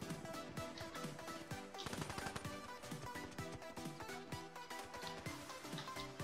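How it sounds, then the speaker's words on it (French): The Laymaker gun in a video game fires in a dense, rapid stream of shots with no letup, and loud music or effects run underneath. "Laymaker, en fait, il tire très vite et je déteste son bruit"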